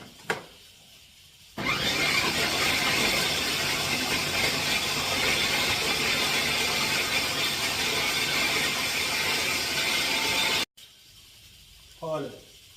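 A food processor whirs steadily for about nine seconds, blending banana and a starchy ingredient in a kitchen, with a loud, even motor hum that starts and stops abruptly.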